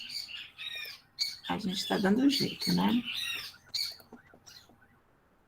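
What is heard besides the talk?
small birds singing outside after rain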